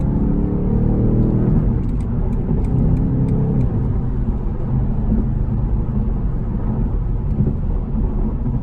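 A 2020 BMW M850xi Gran Coupe, a twin-turbo V8 coupe, accelerates hard with a loud, steady engine roar and rising harmonics for the first couple of seconds, then a sustained rumbling drone.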